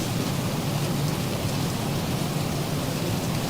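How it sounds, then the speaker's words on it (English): Steady rain in the X-Plane 12 flight simulator pours as a dense, even hiss from an airliner flightdeck, continuous and unbroken with no talk. "Yeah, we getting rain now."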